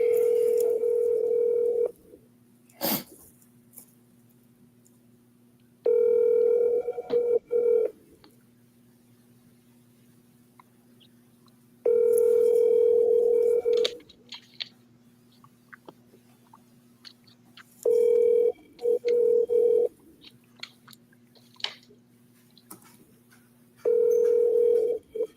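A telephone line plays a steady dial tone that breaks off into short bursts of dialing tones, repeating several times with quiet gaps and faint handling clicks between.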